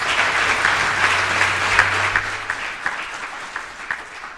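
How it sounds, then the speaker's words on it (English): An audience of South Africans gives a warm round of applause for a visiting delegation from Tanzania, steady dense clapping that thins into scattered individual claps by the end. "give them a good round of applause"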